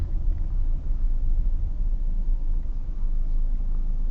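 Steady low rumble of a car interior while driving on a delivery run, continuous road and engine drone with no talk.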